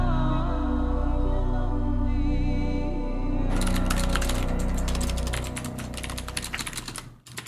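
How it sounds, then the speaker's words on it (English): Keys clatter on a computer keyboard in rapid, uneven bursts, close and crisp, following a stretch of steady tonal background sound. "being able to hear the typing makes this so funny."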